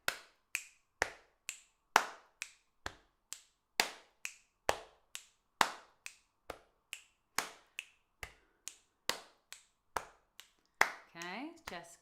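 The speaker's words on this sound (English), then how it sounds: "you stick another click just after the clap" Body percussion of finger clicks and hand claps played alone in a steady, crisp rhythmic pattern of sharp, close, dry hits, ending with a short vocal sound.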